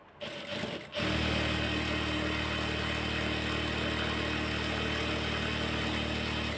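A sewing machine stitching a salwar starts after a brief quiet moment and then runs with a steady, loud, close mechanical whir and hum. It keeps an even rhythm with no voices.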